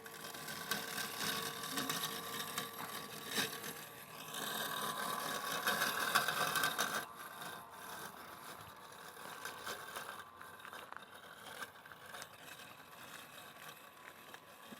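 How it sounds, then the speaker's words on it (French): A Husqvarna Automower 450x robotic lawn mower pulls away from its charging dock; a steady mechanical whir runs loud at first, then its cutting rotor starts and the motor hum settles into a quieter, continuous drone. "Le robot s'extrait donc de la borne de rechargement et commence donc son travail de tonte. Pour entendre le rotor se mettre en route."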